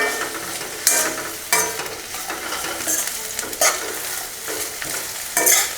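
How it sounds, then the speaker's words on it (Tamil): Bitter gourd sautéing in oil over a medium flame for thokku, a steady loud sizzle broken by a few sharp scrapes as a spatula stirs the pan, close by. "இந்த பாவக்காய் வந்துங்க இந்த எண்ணெயிலே வந்து நல்லா வதங்கணுங்க"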